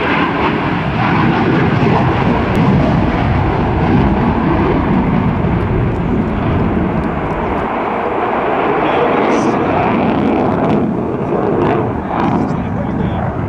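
An F/A-18F Super Hornet jet roars continuously and loudly during an air show demonstration at a joint services open house, a broad sustained rumble with an announcer talking over it throughout.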